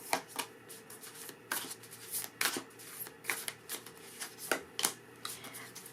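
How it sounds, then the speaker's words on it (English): Oracle cards shuffled by hand in a steady stream of crisp riffling and slapping bursts, close and fairly quiet, repeating irregularly throughout. "So I'm pulling some Oracle cards"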